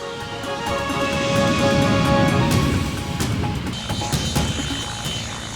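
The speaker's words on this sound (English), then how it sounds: "the operation of fixed-wing and rotary aircraft on and around an aircraft carrier" Fixed-wing and rotary aircraft operate on and around an aircraft carrier, a loud, broad engine roar swelling and then easing off, with some rattling and clanking near the end and no talk.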